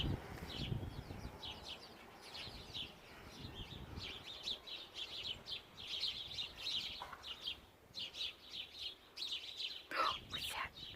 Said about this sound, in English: Those birds, Molly?